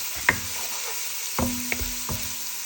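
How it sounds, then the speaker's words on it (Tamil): Crushed garlic and ginger fry in a pan for a chicken uppu curry. A steady close sizzle is punctuated by several sharp clatters of stirring, with no talking. "போட்டு நல்லா பச்சை வாசம் போக வதங்க"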